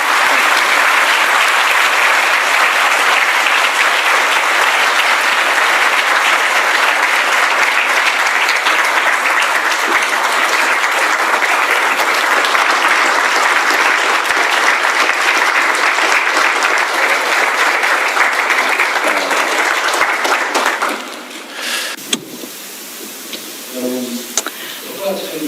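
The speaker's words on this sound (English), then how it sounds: "with your enthusiastic applause, to please welcome President Lee Jae-myung to the dais" Loud, sustained applause from a large audience welcoming South Korean President Lee Jae-myung to the dais, dense clapping that holds steady for about twenty seconds before fading to scattered claps and murmuring voices.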